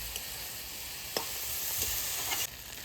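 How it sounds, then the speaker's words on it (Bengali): Food fries in a pan with turmeric while a ghonto dish of magur fish and red cabbage is cooked, a steady close sizzle broken by a few sharp stirring scrapes, with no talking. "এটা ভালো করে ভাজা হোক"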